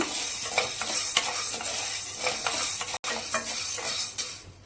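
Soy being dry-roasted in a pan, stirred with repeated close scraping strokes in an irregular rhythm, with faint crackle underneath and a brief break partway through.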